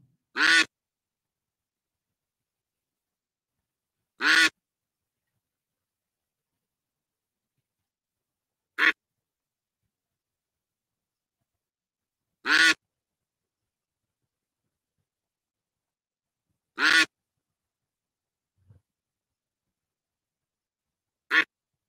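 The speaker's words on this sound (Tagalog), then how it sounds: "Ang ingay ng pato niya." Loud duck quacks, six separate bursts spaced several seconds apart with silence in between, each a short harsh nasal call.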